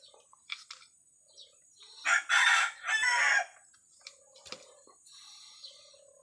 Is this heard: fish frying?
no